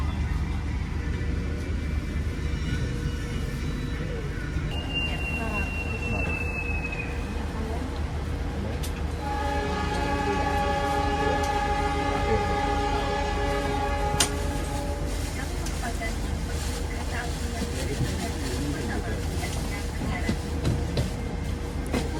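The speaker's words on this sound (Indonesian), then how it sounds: "kereta api Jayabaya diberangkatkan kembali dari stasiun Sidoarjo." The Jayabaya passenger train departs Sidoarjo station with a steady low rumble, a rising tonal whine, then sustained horn-like tones in the middle; a voice is faintly audible in the background.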